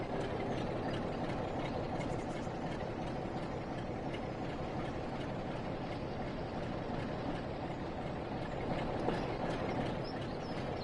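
Class 47 diesel locomotive hauling a train of wagons in Train Sim World 5, a steady, unbroken engine drone with rolling rail noise that holds the same loudness throughout, with no voices over it.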